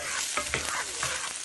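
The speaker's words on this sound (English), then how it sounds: "I'm adding some garlic." Garlic tossed into onions sizzling in a pan for beef stroganoff, a steady loud frying hiss with a few quick stirring scrapes and clicks close by.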